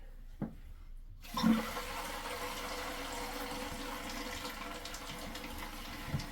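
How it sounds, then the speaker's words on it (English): A toilet tank refills through its water fill valve, starting with a sudden rush and then a steady close hiss of flowing water that continues throughout, with a couple of small knocks. "turn your water fill valve on, and that's going to help clean that out even more"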